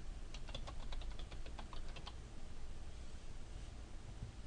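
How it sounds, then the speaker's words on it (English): Quick light keystrokes on a computer keyboard tap out a short burst of text, faint and close, then fade into a soft room hum. "we're going to type description"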